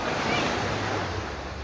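Sea waves washing at Hermits Cove in Aloguinsan, a steady broad surf wash with some wind rumble on the microphone, close and continuous.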